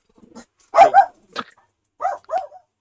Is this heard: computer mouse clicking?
no